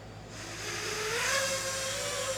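A custom-built DJI O4 FPV drone lifts off, its motors swelling into a steady high whine that rises in pitch, loud and close throughout.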